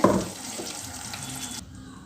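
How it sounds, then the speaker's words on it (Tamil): Water runs and splashes steadily as a mixer jar is rinsed under a tap while making chutney, before the flow cuts off near the end. "மிக்ஸி ஜாரை நல்லா கழுவி உள்ளே ஊற்றிட்டாங்க"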